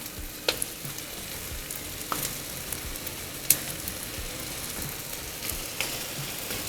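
Cauliflower florets fry in a pan over medium gas for masale bhat, giving a steady, even sizzle with a few sharp spatula clicks scattered through it.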